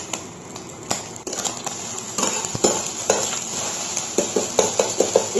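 Eggs frying in hot oil in a wok for a Maggi manchow soup, sprinkled with salt: a steady sizzling hiss with spatula taps and clinks against the metal that grow more regular toward the end.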